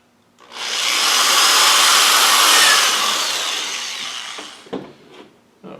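A drill bores a hole through the side of a homemade potato gun: one steady, loud grinding whir of about three and a half seconds that slowly tapers, followed by a few short scrapes and knocks.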